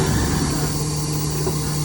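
Kenworth T370 truck with a Paccar PX9 350 hp engine and 10k Autocrane sits idling, a steady low diesel rumble with constant hum, no talk over it.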